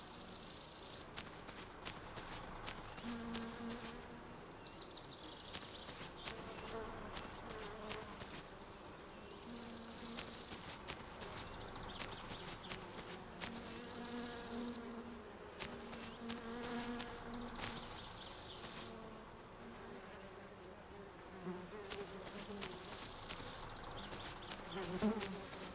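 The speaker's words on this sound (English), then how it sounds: "That's just the fly. The wasp is a different noise." A fly buzzes continuously around the player in the video game My Summer Car, a steady insect drone with shifting pitch and loudness as it circles close by, with no one talking.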